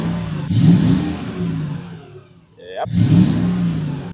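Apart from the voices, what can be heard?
Mercedes car engine running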